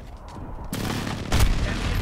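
Precision airstrike blasts in Call of Duty: Modern Warfare roar in two heavy, loud bursts, the second booming deeper over steady rumbling, with no talking.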